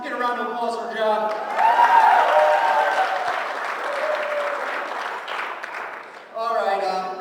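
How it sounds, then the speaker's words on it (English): Wedding guests give a round of applause during a best man speech, clapping with cheers and whoops that build and then fade, with someone talking before and after over the crowd. "Let's get a round of applause for John."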